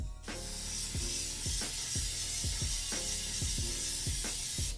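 Plasti Dip sprayed from an aerosol can inside a subwoofer box, a continuous loud hiss over a steady rhythm of low repeated thumps from background music.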